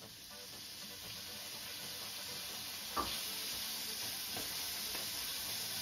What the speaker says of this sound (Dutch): Geert een klein scheutje olijfolie in een pan. Daar bakken we 250 gram spekjes in uit.